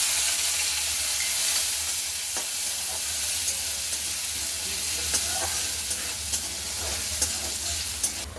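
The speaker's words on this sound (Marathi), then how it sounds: "चण्याची डाळ 1 मिनिटभर परतलेली आहे." Soaked chana dal fries in oil in a kadhai with a steady, close sizzle and hiss, while a spoon scrapes and stirs it now and then. Nobody talks.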